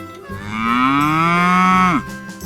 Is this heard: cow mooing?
yes